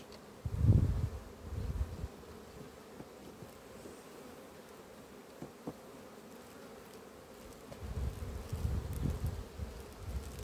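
Honeybees buzz faintly around a brood frame lifted from the hive, with louder swells as bees pass close near the start and end.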